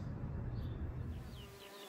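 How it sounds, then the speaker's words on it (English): A bee buzzes close by in a summer garden, a steady low hum that fades slightly toward the end, alone without voices. "With wings that hum, a cheerful sound, buzzy bee dances all around."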